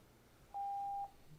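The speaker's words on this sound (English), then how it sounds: "the second time I've been beeped tonight. I think I'm getting sent a message" A single steady electronic beep from a phone signalling an incoming message during a school board meeting, sounding once for about half a second, clear over a quiet room hum.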